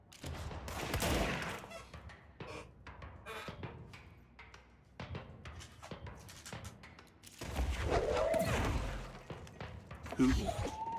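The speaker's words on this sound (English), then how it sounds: "Shooting guy in face." Gunfire from the video game Control, with bursts of shots and impacts of varying loudness over game effects and someone speaking.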